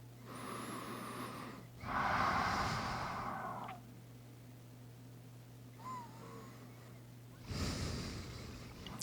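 Slow, deep breathing during a yin yoga session, with two long breaths, each a soft, airy inhale and exhale heard up close, separated by a quiet pause.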